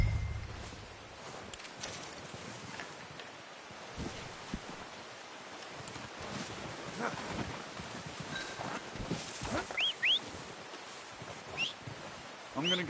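Horse hooves clip-clop in Red Dead Redemption 2 with quiet, irregular steps. Soft outdoor ambience sits underneath.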